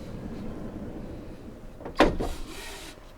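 A fly screen on the side door of a 2022 Robeta Helios camper van is slid, giving one short rasping slide and rattle after a quiet, faintly noisy interior.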